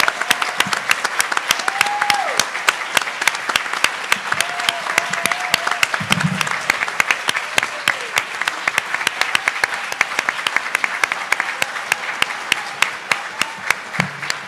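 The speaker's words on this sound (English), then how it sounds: "please one more round of applause for our entire panel" Steady applause from an audience honoring a panel at a Pan-Africanism event, dense clapping sustained throughout with a few faint voices calling out over it.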